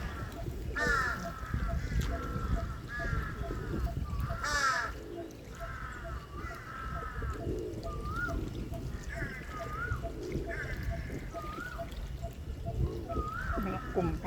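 Several crows caw repeatedly in short bursts at a moderate distance at a large lake in a city, over a steady background of water and outdoor ambience with squirrels calling, with voices talking.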